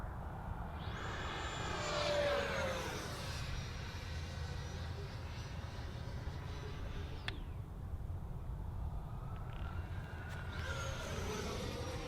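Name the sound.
FMS Super Scorpion 90mm EDF model jet at full throttle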